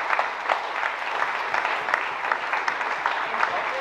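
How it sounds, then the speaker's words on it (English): An audience at an event about the environment claps for a team thanked from the stage, steady dense applause of moderate loudness with no voices, lasting throughout. "So a huge round of applause for them"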